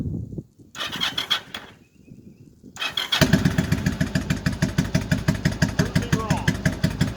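Motorcycle engine cranked with the choke on for its first start of the year, a few sputtering turnover attempts with gaps, then catching into a steady, rapid, loud close-up idle pulse.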